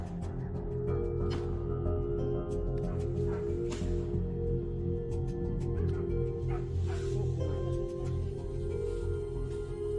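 Hunting dogs bark and yip in a steady, excited chorus while chasing wild boars, the barks overlapping amid continuous outdoor noise and rustling.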